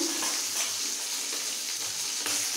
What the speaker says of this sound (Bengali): মাছ ভাজা হয়ে এসছে।